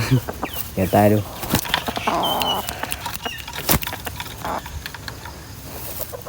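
Young white-eared bantam chicken, five to six months old, clucking and calling near the microphone in short bursts amid wing flapping and someone talking.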